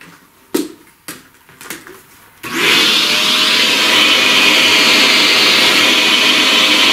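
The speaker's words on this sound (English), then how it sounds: "vacuum that." Vacuum cleaner switches on after a few knocks and handling sounds, then runs with a steady, loud whooshing roar to the end.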